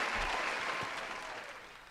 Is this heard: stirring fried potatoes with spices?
no